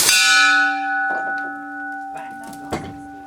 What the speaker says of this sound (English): Let's hit that gong.